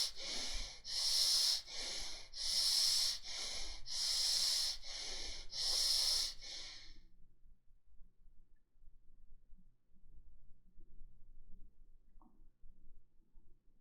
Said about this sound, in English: Breathing continues.